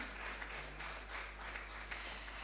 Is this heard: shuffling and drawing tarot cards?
no